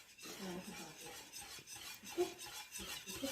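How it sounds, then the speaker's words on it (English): A wire whisk stirring a mixture in a bowl, soft repeated scraping and rubbing strokes in a steady rhythm with light metallic ticks, fairly quiet and close. "we need to switch from a wooden spoon to a wire whisk, so we can stir it properly"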